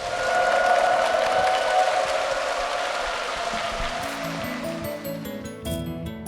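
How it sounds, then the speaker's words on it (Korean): A church congregation gives a sustained round of blessing applause for two members, a dense steady wash of clapping that gradually thins out, with faint music entering near the end. "앞으로도 그 은혜 가운데 승리하실 수 있도록 우리 두 분을 향해서 힘찬 축복의 박수 부탁드립니다."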